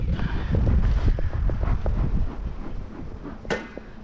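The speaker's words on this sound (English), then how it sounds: "Pretty windy for that too." Strong wind gusts buffet the microphone outdoors at a backyard beehive inspection, a steady low roar that swells and eases over the seconds, with a brief sharper gust near the end.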